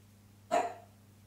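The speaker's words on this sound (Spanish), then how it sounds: "es imposible grabar un vídeo sin que mi perro ladre" A dog gives a single sharp bark indoors, somewhat distant, breaking an otherwise quiet room with a low steady hum.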